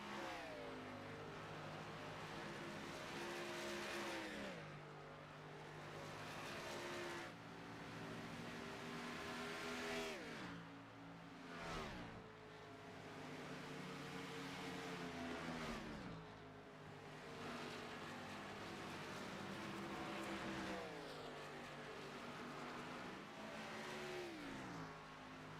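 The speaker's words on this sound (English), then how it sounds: "seeing the cars just roar down the straight at such speed" Cup racing cars roar down the straight at speed, with engines droning loudly, pitch rising through the gears and dropping at each shift, heard continuously from onboard.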